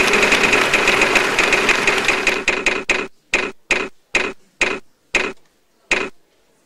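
A Wheel of Fortune wheel in a game-show simulation spins with rapid, loud ticking that gradually slows into a handful of widely spaced clicks before stopping.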